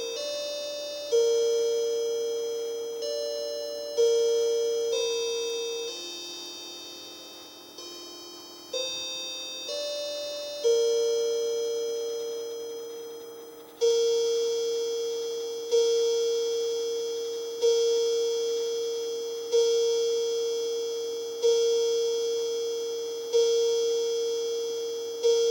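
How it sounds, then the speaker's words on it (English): A Linden Westminster chime clock plays its melody, a sequence of clear, resonant metallic bell tones, each struck note decaying slowly before the next, heard alone in a quiet room. "Chime kicks in."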